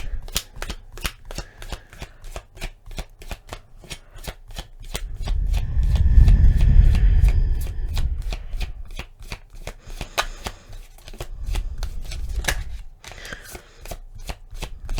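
Tarot cards being shuffled, a rapid run of crisp, even riffling clicks over fifteen seconds, with a heavier rustling swell in the middle.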